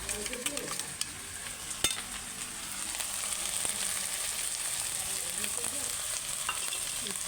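Ground cumin masala paste tipped into a hot pan while making chicken kosha fries with an even, continuous sizzle, with light stirring taps and scrapes near the start.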